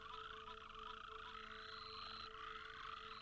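Frogs croaking in Namibia, mating on a tree bough above a pond: a dense, steady chorus of overlapping high trills and calls with one sustained tone running through, close and continuous with no voices.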